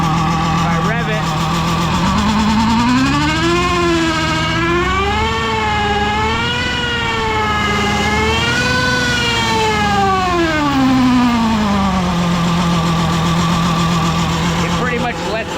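A turbocharged 1961 VW Beetle engine revs up and settles while the blow-off valve vents boost, giving a loud, steady mechanical drone with a rising and falling pitch over about fifteen seconds.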